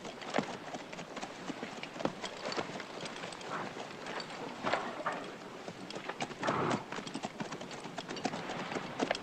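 Cavalry horses being dismounted and led out to the stables, hooves clip-clopping steadily and continuously on hard ground, a busy dense patter of many hooves at moderate distance.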